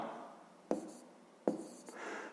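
Quiet scratching of a pen writing a math solution by hand on paper, close and faint, broken by two sharp taps.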